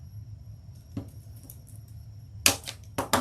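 Pruning shears snipping through evergreen branches while cutting them into pieces for a Christmas wreath, a soft snip near one second followed by two loud, close crisp cuts near the end.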